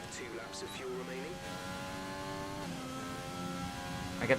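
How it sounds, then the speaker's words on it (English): A Formula 1 race car engine in the racing game F1 2020 whines at high pitch through rising and dropping gear changes, with a steady loud drone and a voice speaking over it. "those downshift sounds are so good"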